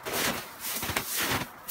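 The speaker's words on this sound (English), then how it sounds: "What you guys are hearing is me crunching the chunky, icy snow." Boots crunching through chunky, icy, slushy snow outdoors on a 40-degree day, a few close, uneven gritty crunches in quick succession with no talking.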